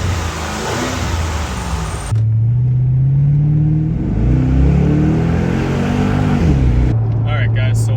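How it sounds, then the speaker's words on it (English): A car engine with a modified intake revs up hard, a loud steady roar that rises and falls through several throttle blips, close by with no talking. "let's give her a rev and see what it sounds like"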